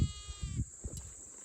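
A couple of goats in a herd bleat nearby in quick succession, a wavering nasal cry followed by shorter calls against quiet outdoor background.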